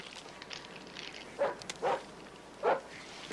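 A dog next door barks three times in short, separate bursts, moderately faint and somewhat distant, with no one talking.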